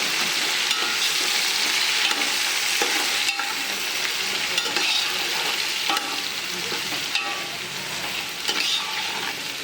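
Onions frying with masala in a large cooking pot, a steady close broadband sizzle with occasional stirring scrapes and clicks throughout, no talking.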